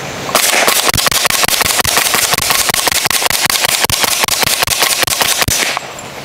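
A Stribog SP45A3 pistol-caliber carbine fires 195 grain XTP hollow points in a long, rapid string of loud, close, sharp shots that runs for several seconds before stopping.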